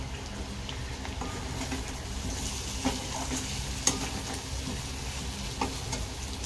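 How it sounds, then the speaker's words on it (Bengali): Neem leaves frying in a pan in a home kitchen, a steady crackling sizzle with occasional sharper pops and stirring clinks throughout, close and continuous with no talking. "আর করছি হচ্ছে নিম পাতা ভাজা"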